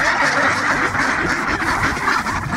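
Ducks quacking continuously at close range, a busy overlapping chatter of several birds with no pauses.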